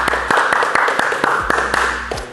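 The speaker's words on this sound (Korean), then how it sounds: "박수!" Applause at a Korean camping tent event in Gyeryong, South Chungcheong, where an iCamper Sky Camp 3.0 slim tent is being presented; a dense, steady crowd clapping of sharp overlapping claps fills the whole moment at fairly close range.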